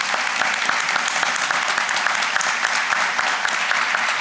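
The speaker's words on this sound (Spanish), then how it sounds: "Le pido un fortísimo aplauso." Steady, dense applause from an audience at an architecture firm's presentation, continuous and fairly loud throughout with no talk over it.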